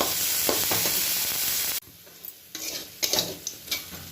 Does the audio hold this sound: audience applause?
no